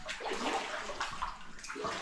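Soft sloshing and splashing of water inside a flooded old mine, faint and close, with a continuous wet churning and a few small splashes.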